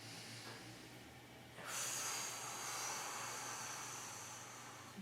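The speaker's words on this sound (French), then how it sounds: "Soufflez profondément." Long, airy exhale during a stretching and relaxation exercise, starting abruptly and trailing off softly over a low background hum, with no words spoken.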